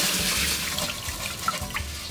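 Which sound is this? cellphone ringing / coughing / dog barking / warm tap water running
warm tap water running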